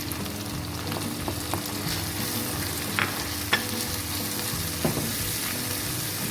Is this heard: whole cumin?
yes